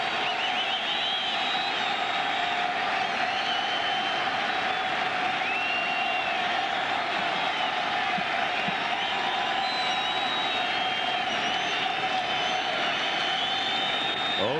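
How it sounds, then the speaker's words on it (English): Steady crowd noise from baseball fans at an American League Championship Series game in a large stadium, a dense, continuous roar of applause and cheering that holds at a constant level throughout. "And the fans again begin the rhythmic applause"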